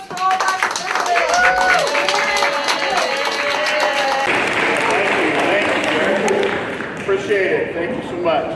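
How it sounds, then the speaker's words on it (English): An audience claps for participants at a street magic show held at an elementary school, a steady wash of applause building and continuing for several seconds while people talk over it. "Another big round of applause for all my participants."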